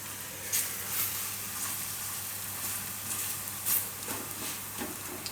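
Achari paratha roasting in oil on a pan, a steady soft sizzle and hiss with occasional brighter crackles and faint scraping, quiet and continuous.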